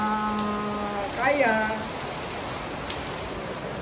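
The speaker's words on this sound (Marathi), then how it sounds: "एवढ्या जोरात पाऊस पडतोय तरी पण" Heavy rain falls steadily outdoors in a lane, a dense, loud hiss throughout, with a brief tonal sound and a short spoken remark partway through.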